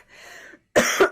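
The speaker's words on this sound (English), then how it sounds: "I have to clear my throat as I say that." A person clears their throat nearby: a soft rasp followed after a short pause by a louder, sharper double throat-clearing burst.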